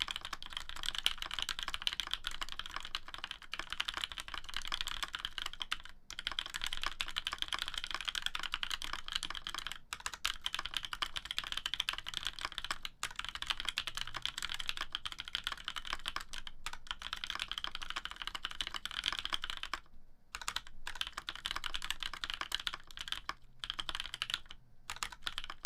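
Steady, continuous typing on a mechanical keyboard with broken-in cream switches, close and clear, with brief pauses scattered through an otherwise unbroken run of keystrokes and no talking.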